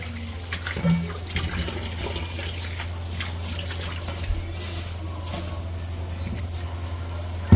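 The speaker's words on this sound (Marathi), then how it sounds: "कोथिंबीर जरा धुवून घेऊ आपण." Coriander leaves are rinsed under running water from a tap. A steady, fairly quiet stream flows with small splashes and trickles throughout, and no one talks.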